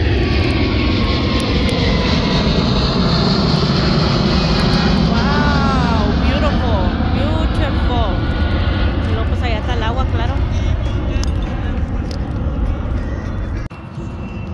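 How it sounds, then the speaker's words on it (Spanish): Loud, continuous roar of airplanes passing overhead in California, swelling and fading, with people talking underneath. "ahí están pase y pase los aviones"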